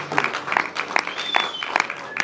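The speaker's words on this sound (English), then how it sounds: "Let's give him a hand clap today of appreciation." A church congregation at Sunday worship claps in a steady rhythm, roughly two or three beats per second, moderately close, with some murmuring voices underneath.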